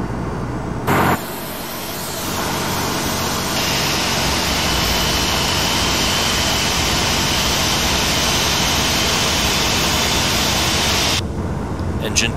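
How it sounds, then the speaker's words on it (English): An Airbus A320 jet engine spools up in a flight simulator, a steady loud whine and rumble that rises after a brief start and holds evenly before cutting off near the end. "Engine 2 is stabilized."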